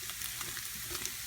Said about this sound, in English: So we've added in the flour there. I'm going to let that get a little golden brown for a second.